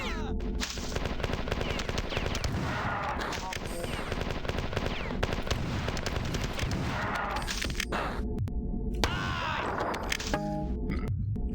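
Rapid gunfire from the video game Marathon Infinity, with dense bursts of cracking shots and brief pauses, loud throughout.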